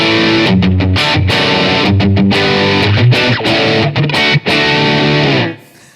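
An electric guitar runs through a Line 6 Helix with two overdrives stacked, the Prize Drive and Compulsive Drive, playing loud, thick, distorted chords and riffs that ring out and then cut off at the end.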